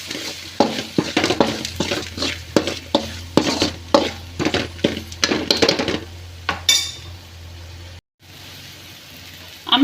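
Chilli powder frying in a pan of dal while a spoon scrapes and stirs it in brisk, regular strokes, close and loud with a faint sizzle beneath, stopping briefly near the end.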